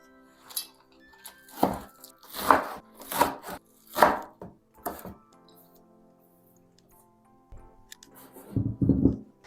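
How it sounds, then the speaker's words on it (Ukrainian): Green onions chopped with a knife on a board, a quick run of sharp, close knocks followed by a pause and then a shorter burst of cutting, loud and alone with no talking. "Спочатку потрібно нарізати зелену цибулю."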